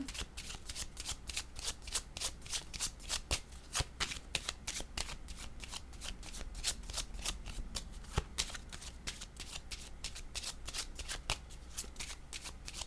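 Tarot cards are shuffled in rapid, rhythmic riffles, crisp close flicks repeating steadily with no talk.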